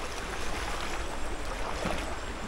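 A strong river current rushes steadily past a small boat, a loud broadband wash of water that holds constant from start to finish with no voices.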